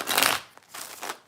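Tarot cards are shuffled in two quick, close riffling bursts with a brief pause between them.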